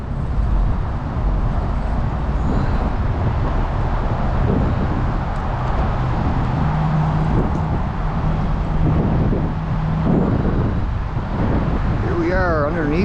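Strong wind buffets the microphone during an e-bike ride near the Peace Bridge in Buffalo, a constant loud roar with traffic rumble beneath it for the whole stretch.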